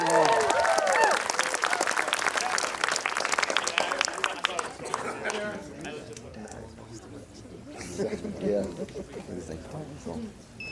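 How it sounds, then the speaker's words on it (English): A crowd at a cosplay contest at the Long Island Retro Gaming Expo 2019 claps loudly for a contestant. The applause fades away after about five seconds into crowd murmur and nearby talking. "Give her a round of applause for that."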